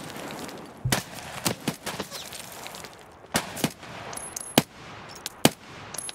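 An AK-104 rifle fires in Escape From Tarkov: sharp, loud bursts of several quick shots spaced across a few seconds, standing out over quiet ambience.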